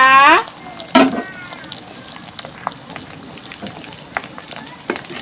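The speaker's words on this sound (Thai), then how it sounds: "เดี๋ยวไปทอดปลาหมึกกันด้วยค่ะ" Dried squid frying in hot oil, with a busy crackle and pop close by, preceded by a brief voice at the start and a clatter near the first second.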